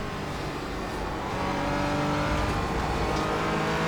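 Porsche Cayman GT race car engine in the iRacing sim at Road America, a loud sustained onboard drone climbing in revs as it accelerates, with faint tire noise and no talk.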